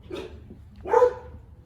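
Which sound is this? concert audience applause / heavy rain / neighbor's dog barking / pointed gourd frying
neighbor's dog barking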